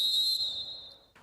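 A referee's whistle at a five-a-side football memorial tournament gives one long, steady, shrill blast that fades, followed by a brief rustle.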